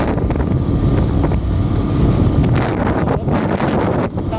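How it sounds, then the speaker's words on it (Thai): Strong wind roars and buffets the microphone in a loud, steady rush of noise with gusty swells, and no one speaks over it. "ลม"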